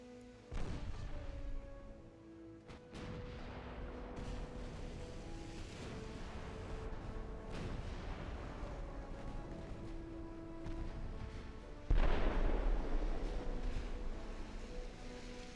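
Naval gunfire in Ultimate Admiral Dreadnoughts, the Italian campaign of 1906: heavy booming salvos over a low rumbling sea ambience with sustained engine-like tones, and one louder blast near the end.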